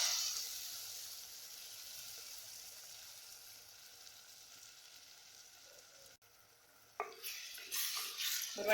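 Dried fish curry (karuvadu kulambu) is stirred in a clay pot with a soft, low simmering hiss. A louder burst of scraping and clatter near the end marks the stir.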